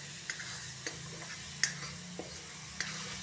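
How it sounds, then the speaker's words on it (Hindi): Spice masala with kasuri methi being stirred in a pan, a faint low sizzle under a handful of light, evenly spaced clicks and taps of a spoon against the metal. "ये हमने डाल लिया है थोड़ी सी कसूरी मेथी, इसको भी हम अच्छे से मिला लेते हैं"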